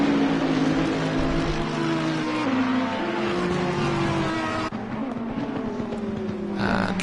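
GT3 Ferrari race car engine in a racing game at a wet Imola, a loud steady high-revving drone that shifts pitch through gear changes, close and continuous.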